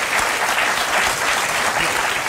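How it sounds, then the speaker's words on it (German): Studio audience applauds a chef on a German TV cooking show, steady dense clapping filling the whole short stretch at close, loud level. "Applaus für den Horst, geht doch."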